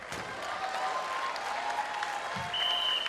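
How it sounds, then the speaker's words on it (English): Crowd at a squash match final applauding and cheering, with dense continuous clapping throughout and some voices mixed in. "the crowd are desperately trying to get Mustafa Asal going"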